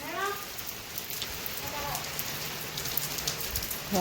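Steady rain patters and hisses throughout, with a faint voice briefly at the start and end.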